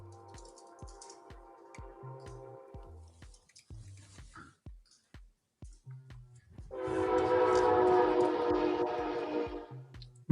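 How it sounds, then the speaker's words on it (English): A freight train sounds long, steady horn blasts over a regular clicking rhythm of wheels on rail joints. A second, louder horn burst comes near the end, heard alone without talk. "That sound, that freight train"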